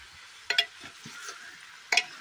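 Kohlrabi is stirred in a pan with a spoon, Kashmiri style, giving two sharp scraping clatters of metal on the pan with soft shuffling in between, close and moderately loud.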